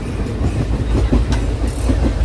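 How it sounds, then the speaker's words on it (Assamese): Train arriving at a small railway junction, a loud continuous rumble with rhythmic wheel clatter, close by and without talk. "আমাৰ ট্ৰেইন আহি পালে আৰু আমি ট্ৰেইনত উঠি দিলোঁ"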